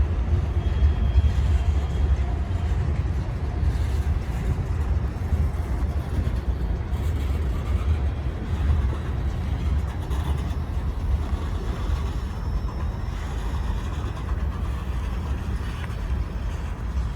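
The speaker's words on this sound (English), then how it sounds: "That was a pretty good train." A long freight train with mixed freight cars rumbles steadily past at close range, a continuous low roar and rattle lasting throughout with no speech.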